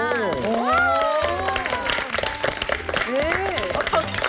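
A TV studio audience claps steadily for several seconds while excited voices talk and exclaim loudly over the applause.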